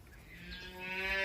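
A dairy cow for sale gives a single long, close moo that swells steadily in loudness, with no talking.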